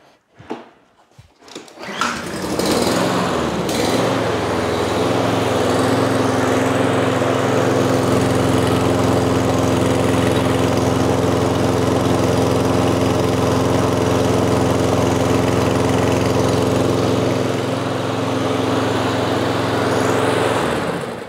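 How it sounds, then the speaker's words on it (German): A serviced lawn mower's engine starts with a brief pull and sputter, then holds a loud, steady drone at about 3000 rpm, with a constant harmonic hum running unbroken for about twenty seconds. "Der Motor läuft um die 3000 Umdrehungen"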